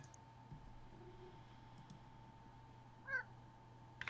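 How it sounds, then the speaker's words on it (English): A single short meow from a house cat in a quiet office, heard once about three seconds in against a low steady hum, with faint clicks before and after. "Yeah, sorry. I've got a cat."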